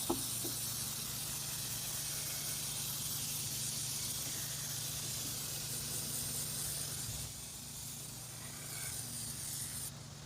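Aerosol coil cleaner spraying onto an old air conditioner condenser, a loud steady hiss that runs almost without a break, easing slightly near the end.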